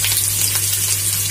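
Onion, ginger and garlic frying in oil in a kadhai, a steady close sizzle with bubbling crackle throughout, loud and continuous with no talking.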